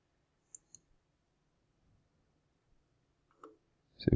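A computer mouse clicking in Windows 10 network settings: a few sharp, isolated clicks spaced across several seconds of near silence, with a louder cluster of clicks at the very end.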